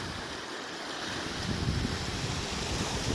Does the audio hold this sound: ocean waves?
yes